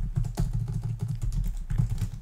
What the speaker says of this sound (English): we're going to be typing a lot in this example